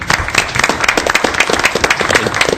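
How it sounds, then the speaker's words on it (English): Audience applause at a town council meeting in Bristol, steady dense clapping from a roomful of people, close and fairly loud throughout, with no talk over it. "So if we could get a round of applause for them."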